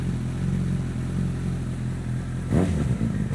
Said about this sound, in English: Dude, this thing has a grumble. I really hope you guys can tell that in the microphone.